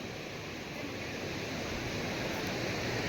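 A waterfall at Katisil makes a steady, broadband rushing and hissing of falling water, fairly faint and even throughout, with no talk.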